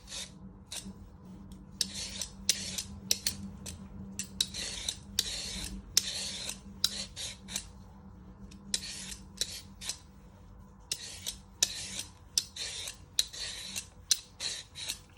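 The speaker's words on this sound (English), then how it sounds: "you're going to peel out the skin using a peeler" A hand peeler scraping the skin off vegetables for roasting, a quick series of close, crisp rasping strokes in irregular bursts with brief pauses between, no talking.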